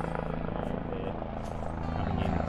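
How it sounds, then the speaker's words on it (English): Helicopters flying low over floodwaters near a caravan park used by emergency services, their rotor chop a loud, pulsing thrum that comes in to land. "helicopters are monitoring all the flooding."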